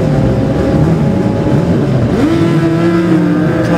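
A superbike, one of the Kawasaki or Suzuki machines in the Classic TT 2017 Superbike race, screams past close and loud, its engine note climbing then dropping in pitch as it goes by.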